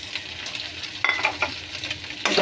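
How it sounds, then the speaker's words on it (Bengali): Chopped onion and egg fry together in a pan while being stirred, a light sizzle punctuated by scraping strokes and clacks of the utensil against the pan. "তো আমরা পেঁয়াজটাকে ডিমটাকে একসাথে একটু ভেজে নিব যাতে একটু টেস্ট লাগে।"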